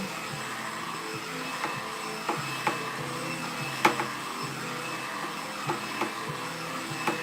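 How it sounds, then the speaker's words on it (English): A blow dryer fitted with a comb attachment runs as a steady, even whirring hum while drying long, thick hair, with a few faint clicks and knocks rising above it. "blow dryer."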